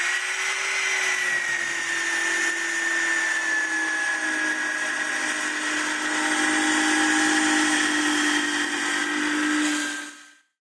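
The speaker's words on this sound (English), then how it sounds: "if you want to scribe a panel, we can just do that with a belt sander" A belt sander runs steadily and loudly against the edge of a shower panel for about ten seconds, its motor whine holding even before it cuts off abruptly at the end.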